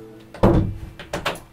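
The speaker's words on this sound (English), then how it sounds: "Close the door, please." A door closes indoors at home with a single solid thunk followed by a short rattling settle, close and fairly loud, with no talking.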